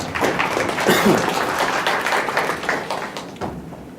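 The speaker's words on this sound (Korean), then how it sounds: "박수로 한번 모셔보겠습니다" Audience applause at a Korean startup forum as a speaker is welcomed to the stage, a dense burst of clapping that starts strong and gradually thins out toward the end, close and fairly loud.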